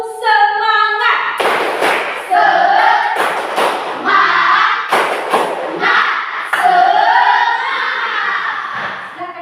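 A classroom of students performs a rhythmic spirit clap together, with loud, sharp group claps landing in patterned clusters between bursts of shouted group chanting, all close and energetic.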